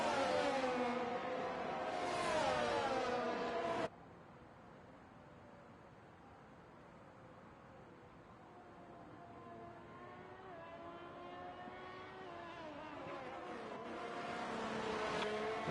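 Race cars on a formation lap in a racing video game at the China circuit give off a steady engine drone that rises and falls as cars rev and pass, moderately loud throughout, with no voices.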